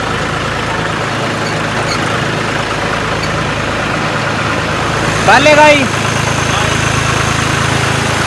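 A tractor engine runs with a steady, loud mechanical drone at high revs, and someone speaks briefly over it.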